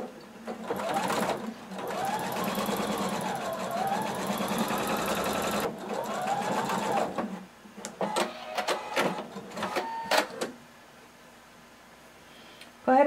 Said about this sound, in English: we're going to sew in one continuous seam using 5/8 of an inch seam allowance